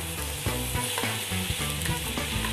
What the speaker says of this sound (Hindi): अब हम डाल देंगे इसमें मैश किए हुए आलू